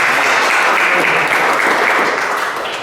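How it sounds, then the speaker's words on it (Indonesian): Church congregation applause at an Indonesian worship service, a dense, loud, continuous wash of clapping that fades slightly at the end. "Kita beri tepuk tangan dulu ya buat Tuhan"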